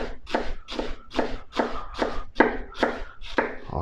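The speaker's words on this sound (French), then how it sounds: "Maintenant, on émince les oignons, tu vois." Onions sliced with a knife on a cutting board, about nine evenly spaced crisp chops in quick rhythm, close and fairly loud with no other sounds.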